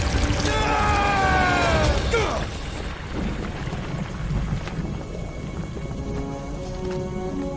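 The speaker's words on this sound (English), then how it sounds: "the storm actually getting worse" A thunderstorm rolls through in the Guardians of the Galaxy video game, a loud crackling, sweeping burst of thunder and rain at first that settles into a steady, lower rumble with rain and background tones.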